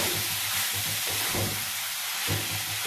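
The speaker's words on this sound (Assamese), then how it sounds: "নাৰিকলৰ তেলটো ওলাব লাগিব তেতিয়ালৈকে লো ফ্লেমতে ভাজিব লাগিব" Grated coconut fried on low flame in a pan for coconut laddu with jaggery: a loud, continuous frying hiss close by, with low rumbling thuds of stirring underneath.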